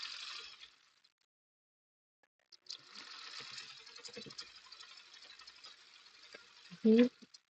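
A home sewing machine runs in a steady buzzing burst for several seconds, close and fairly loud, then stops with a short clunk near the end as the bobbin thread runs out.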